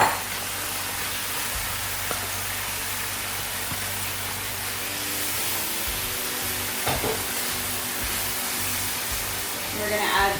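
Zucchini with sauce and rice noodles sizzles in a pan, making a steady, moderate hiss over a low hum, with occasional clinks and a person talking over it.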